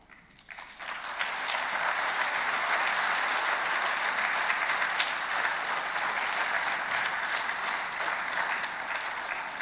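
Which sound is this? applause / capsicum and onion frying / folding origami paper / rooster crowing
applause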